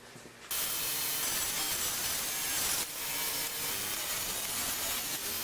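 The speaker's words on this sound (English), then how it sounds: "Next, I've got a 1/4 inch plywood. I'm going to cut a back for the cabinet." A saw cuts through a sheet of 1/4 inch plywood for a cabinet back, a continuous loud rasping cut that starts abruptly after a brief quiet moment, with a short dip midway.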